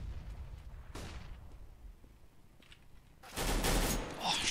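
Bursts of gunfire in a Counter-Strike match on de_nuke, with a scattered early shot and then a loud, dense volley near the end, under a commentator's voice.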